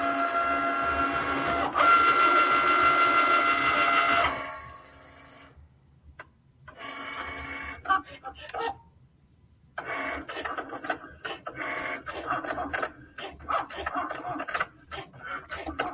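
A Cricut vinyl cutting machine runs with a steady whirring motor hum, then pauses and resumes with quick ticking, clicking carriage movements and bursts of cutting noise, close and moderately loud.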